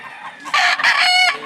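A rooster crows loudly at a chicken sale, one drawn-out call rising and breaking into a harmonic-rich final note. Background chatter and market noise sit underneath.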